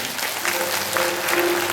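A church congregation at an Easter service claps hands in welcome, dense sustained applause filling the room, with a faint held tone underneath.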